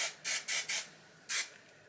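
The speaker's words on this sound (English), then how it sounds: "So today I'm going to use the Moroccan Oil Medium Hold Hairspray" Moroccan Oil Medium Hold hairspray is sprayed onto hair in four short, crisp hissing bursts, three in quick succession and a fourth after a brief pause, close and fairly quiet.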